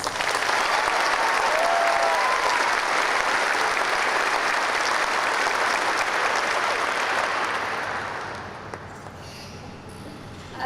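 Sustained audience applause for a speaker at an event for US Air Force members and their families in England, a steady dense roar of many hands that holds loud, then thins and fades toward the end, with a few faint cheers early on.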